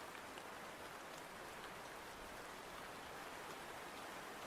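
Steady rain pattering, a soft continuous hiss of drops playing quietly in the background with no pauses and no voices.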